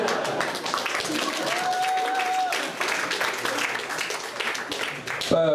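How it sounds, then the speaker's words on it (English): Audience at a stand-up comedy show applauding steadily, a dense wash of many hands clapping at close range that holds for several seconds before a brief tonal sound cuts in at the end. "You can applaud if you like."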